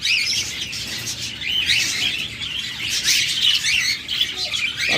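Pet budgerigars chirp and warble nonstop in a cage, a dense, lively flock chatter of overlapping high tweets that stays fairly loud and close throughout with no talking.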